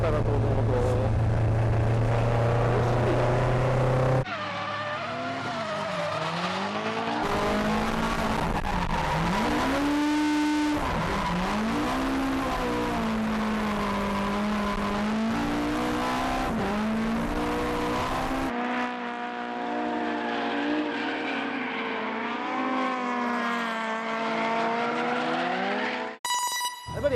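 A Toyota AE86 with a naturally aspirated engine driven hard, its engine note rising and falling through gear changes with sustained revving and sweeping pitch, loud and continuous throughout with no talk.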